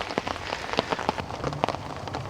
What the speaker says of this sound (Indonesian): Hujannya kayaknya awet nih.